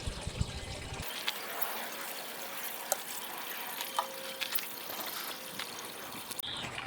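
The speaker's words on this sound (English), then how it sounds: "Now I just need to water it really, really good, and we're good to go." Water is poured onto a newly planted tomato in a compost bin outdoors, a soft continuous trickle and splash that runs for several seconds, close by, with small clicks and splatters and no speech.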